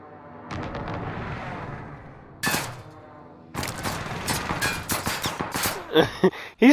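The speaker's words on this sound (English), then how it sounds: "He's shooting through the window, through the wall" Gunfire in the video game Call of Duty: Modern Warfare, a dense burst of rapid shots with a roar, then a sharp blast, followed by a quick run of loud, close, repeated shots and final cracks.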